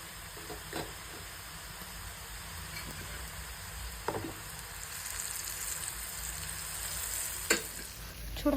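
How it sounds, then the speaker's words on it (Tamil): Oyster mushrooms frying in oil give a steady, moderately quiet sizzle, with a few sharp crackles and pops breaking through at irregular moments; no one speaks. "பேலன்ஸ் இருக்கிற மஷ்ரூமும் ஆயிலில் ஃப்ரை பண்ணி எடுத்துக்கலாம்."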